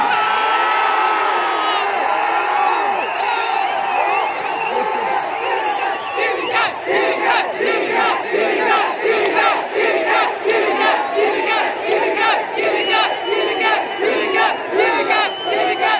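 A huge political rally crowd in Erode roars, cheers and chants in rhythmic waves of massed shouting. The din stays loud and continuous throughout, with voices chanting in unison.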